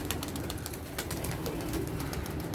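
Pigeons burst out and fly off from a rooftop coop: quick, soft wing flaps, with low cooing underneath, heard at moderate distance and fairly quiet.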